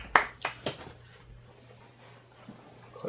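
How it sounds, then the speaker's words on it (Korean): Mothers in a small group clapping their hands, three sharp claps close together at the start, then near-quiet room tone with a faint tap near the end. "박수 치세요, 엄마들"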